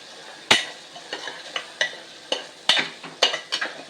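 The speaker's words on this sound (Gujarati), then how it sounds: "પરવરનું શાક વઘારાઈ રહ્યું છે" Pointed gourd (parwal) curry hisses and sizzles while being tempered in a pan, with a dozen sharp spoon scrapes and clinks against the pan at irregular intervals, heard close up with no speech.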